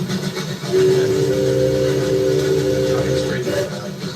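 A train rumbles along steadily while a loud, sustained steam-style whistle blows for about three seconds, close by, with faint background noise from a live railfan outing.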